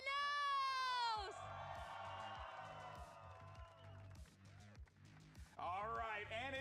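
A crowd at an esports watch party for a Valorant match cheers and whoops for Sentinels, a sustained wash of shouting that swells and fades as an announcer's amplified voice talks over it.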